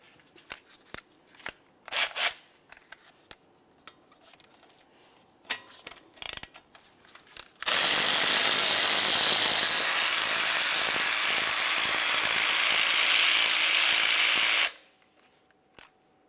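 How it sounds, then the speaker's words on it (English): A ratchet fitted with a 7mm Allen head socket works on brake slider pins of a 2011-2018 Volkswagen Jetta, with scattered metallic clicks and clanks followed by a loud, continuous whirring run of several seconds that stops abruptly. "To remove these slider pins, we're going to use a 7mm Allen head socket."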